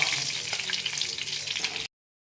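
Whole cumin, dried red chillies, cloves, cardamom and cinnamon sizzle in hot oil left from frying rohu fish, a steady bright crackle at close range that cuts off abruptly near the end.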